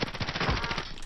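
Rapid automatic bursts from a Ram 7 assault rifle in Warzone, a dense, loud string of close gunshots over about a second with no talk.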